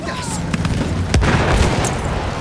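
An artillery gun is blown up in a Battlefield 1 battle in a World War I setting, a deep boom with a sharp burst landing amid ongoing loud gunfire and battle noise, with voices talking over it.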